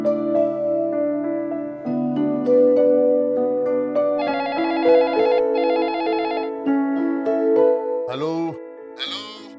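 A telephone in a comedy episode rings with repeated electronic trilling bursts over background music, loud and near.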